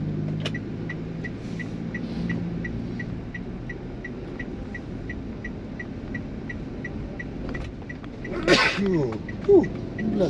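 A single sneeze bursts out inside a car driving through a Javanese town, close and sharp, over the steady hum and rumble of the engine and road.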